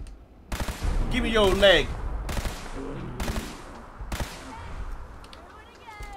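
Gunfire in the video game Fallout 4: several sharp, loud shots spaced out over a few seconds, with in-game voices talking between them.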